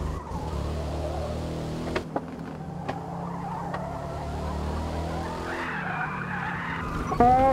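Tires skidding and squealing under a steady engine drone as a Mercedes-Benz SLK 55 AMG races in the Forza video game, with a few sharp clicks and a rising screech near the end.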